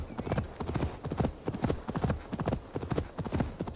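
Horse hooves clip-clopping at a gallop in Assassin's Creed Valhalla as the mount runs up when called, a steady rapid rhythm of hoofbeats close and loud, with a brief whinny.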